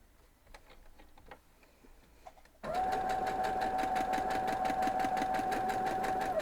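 A sewing machine stitches white fabric for a quilt block, starting after a few quiet taps and running in a fast, even, rattling stitch with a steady motor whine.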